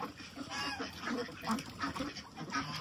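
A flock of Muscovy ducks at a bird farm near Pune keep up a continuous, overlapping stream of quacks and honks, close and busy, with no clear speech over it.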